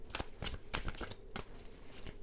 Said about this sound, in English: I think I'm going to shuffle